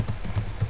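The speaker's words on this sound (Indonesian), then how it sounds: "di sini saya ketik conft saja" Keys on a computer keyboard are struck in a quick run of about five crisp clicks, close and clear with no talking.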